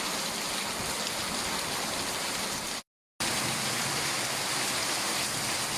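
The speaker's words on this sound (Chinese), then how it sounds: "雨是突然下起来的，" A sudden heavy downpour drums down steadily on an evening in a village near Hanzhong, China, a thick, even roar of rain that cuts out for a moment midway and then resumes at full strength.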